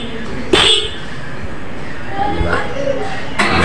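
A motorcycle horn on a Honda Wave 100 honks in short bursts, a quick beep near the start and another at the end, over a low steady background rumble.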